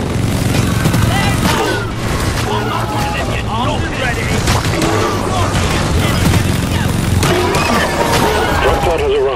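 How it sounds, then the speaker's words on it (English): Sentry gun in Deep Rock Galactic fires steadily into an alien swarm, a dense, continuous clatter of rapid shots and impacts layered over game noise, with voices calling out throughout. "Sentry gun! Go get him, boy."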